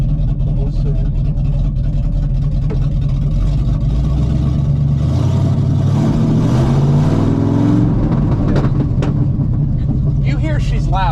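The engine of a 1986 GMC 7000 plow truck runs loud and close, a constant heavy drone that swells as it revs, with someone talking over it.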